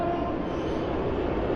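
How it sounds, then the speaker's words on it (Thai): A train passes nearby with a steady, dense rumbling roar that holds evenly for the whole short stretch, with no voices. "โอ้เสียงรถไฟ"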